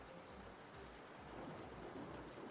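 Rain pattering against window glass, replayed from a recording, a soft, steady hiss with faint low rumbling, continuous and distant with no voices.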